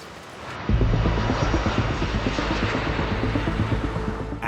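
A recently repaired aircraft undergoing a full engine test at Heathrow: after a short quiet start, a loud, steady engine roar kicks in abruptly and holds at a constant level with a pulsing rumble underneath.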